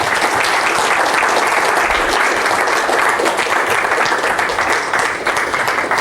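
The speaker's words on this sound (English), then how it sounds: "let's honor him with a round of applause." A crowd applauds steadily, dense clapping filling the space at a loud, even level for several seconds.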